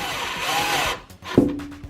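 A power drill briefly whirs as it drives screws into the side of a window blind mounting bracket, a short buzzing burst followed by a quick tool clatter, with no talking.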